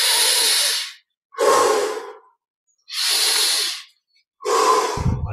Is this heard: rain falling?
no